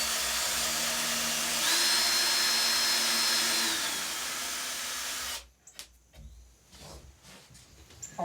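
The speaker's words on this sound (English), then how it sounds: "so I'm gonna drill a couple holes" A power drill whirs steadily and loudly through brittle wood for about five seconds, then cuts off, leaving a few quiet clicks and knocks.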